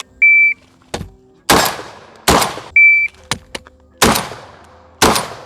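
A Rev Arms Impact M4/R4 shotgun fires during drills, four loud booming shots with short beeps and metallic clunks of handling between them.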